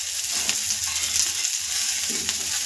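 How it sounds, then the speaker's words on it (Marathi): Hara bhara kebabs fry in a pan with a constant close sizzle and crackle, steady and fairly loud, with a few light scraping touches and no voices. "आता आपण एक बाजू फ्राय झाली की आपण दुसरी बाजू करून घ्यायची"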